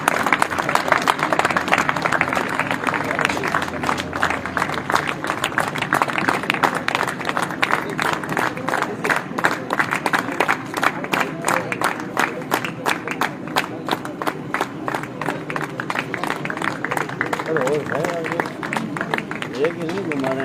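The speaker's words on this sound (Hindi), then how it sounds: "तालियां बजती रहनी चाहिए यार" Dense, continuous clapping from a large audience at a company programme runs for a long stretch, loud and rhythmic, with voices and shouts mixed into the applause.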